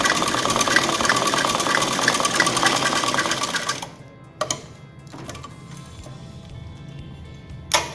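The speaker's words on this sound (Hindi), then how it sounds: "यहाँ से थोड़ी मोटी चाल की सिलाई लगा करके इसको स्ट्रेट सिलाई लगानी है" An Usha sewing machine runs a long straight seam on baby frock fabric, a steady rapid whirring chatter for about four seconds that then stops, leaving faint handling clicks and rustles.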